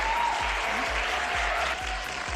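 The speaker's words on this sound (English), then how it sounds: "I want the audience to give you a huge round of applause." Studio audience at a stand-up comedy competition show applauds in a steady, fairly faint wash of clapping with a low rhythmic beat of music underneath.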